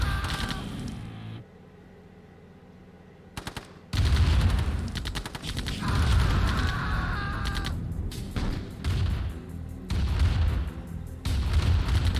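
A flame tank attacks buggies in Command & Conquer Remastered, producing loud bursts of roaring fire and gunfire-like crackle that come in several bursts and stop after short pauses, with no talk.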